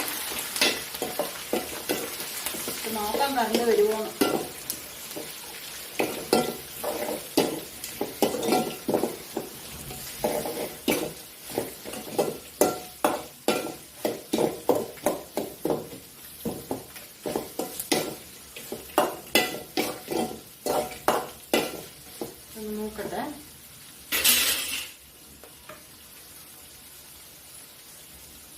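Onions and green chillies frying in oil in a pan, with rapid scraping stirs of a spoon giving a busy, uneven rhythm over a steady sizzle, close and moderately loud, and a voice talking briefly near the start.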